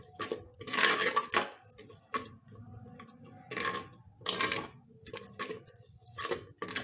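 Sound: stirring ginger, turmeric and chili into fish curry

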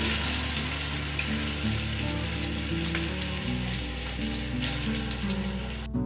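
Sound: frying curry leaves and ginger garlic paste for fish curry

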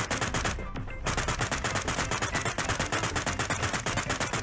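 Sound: gunfire in the video game Sausage Man

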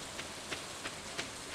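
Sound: rain in the video game Stardew Valley

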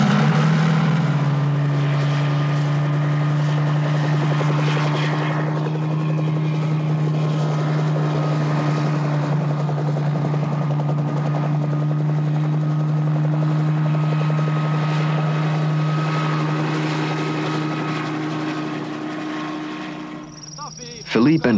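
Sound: helicopter flying overhead

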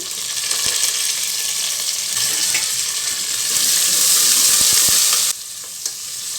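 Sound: chillies, onion and curry leaves frying in oil

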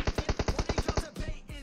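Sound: gunfire from enemy players in a video game (PUBG/BGMI)

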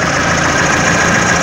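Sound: Fiat Siena Fire 1.0 engine idling

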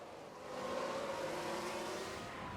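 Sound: race car locking up in F1 Manager 2022 video game

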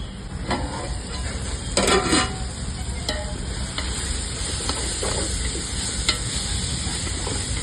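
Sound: tomatoes frying in a pan for brinji rice

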